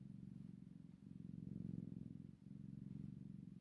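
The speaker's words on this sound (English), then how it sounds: "He's got a good old purr." A sleeping male cat purrs close up, a steady low rhythmic rumble that rises and falls with each breath, continuous for the whole stretch with only brief dips between breaths.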